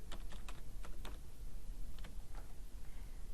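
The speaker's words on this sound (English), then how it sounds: "For now, I'll just type in test data." Steady typing on a computer keyboard while test data goes into a form, with light irregular key clicks in short bursts over a faint background hum, and brief pauses between keystrokes.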